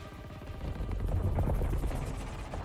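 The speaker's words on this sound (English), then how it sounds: "Attack choppers are back." Attack helicopters roar with gunfire in a Battlefield 2042 game trailer, a dense, loud, sustained rumble with rapid rattling bursts layered throughout.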